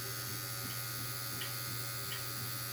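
The 6-volt electric motor of a Centri Evader 3 Titan runs with a steady, even buzzing whir close by, a constant motor drone with no pauses or voices.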